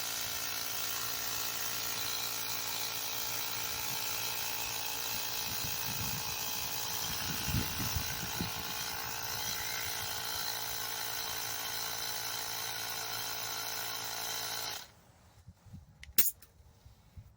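Small air pump inflating a tire, a loud continuous buzzing drone that runs steadily and then cuts off, followed by near silence and a brief clunk.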